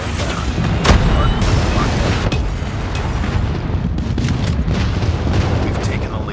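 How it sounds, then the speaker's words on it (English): Loud, continuous rumbling blasts from an airstrike in a Call of Duty Mobile ranked Hardpoint match, with sharp impacts near one second and two seconds over a dense, sustained roar of battle noise. "Friendly airstrike incoming."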